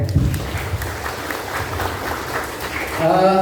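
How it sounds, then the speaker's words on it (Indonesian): A group of students at an Islamic student organization training session gives brief, scattered applause, with voices over the clapping and speech returning at the end. "Tepuk tangan dulu ya"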